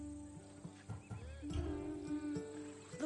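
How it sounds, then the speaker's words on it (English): A Macedonian warhorse, bred for battle, whinnies in Assassin's Creed Odyssey, one drawn-out quavering neigh rising midway through a quiet game scene among soft thuds and ambient noise. "A true warrior's horse."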